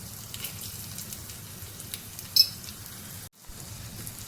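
Kashmiri red chili powder sizzles in a hot tempering of cumin, mustard seeds and curry leaves for Konkani dal, a soft, steady hiss with a light metallic clink midway and a brief drop-out near the end.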